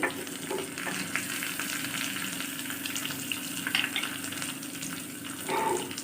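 Onion, green chili and curry leaves sautéing in a pan for a drumstick-leaf kootu, giving a steady close sizzle with a few soft stirring scrapes throughout, no talking.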